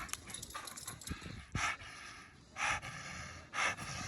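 A dog pants in quick breathy bursts, with a few louder rasping puffs standing out over a steady low background; no one speaks during it.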